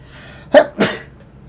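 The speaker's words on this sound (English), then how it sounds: "I'm gonna sneeze." A single close, sharp sneeze: a quick inhaled catch followed by a loud burst of breath, then quiet.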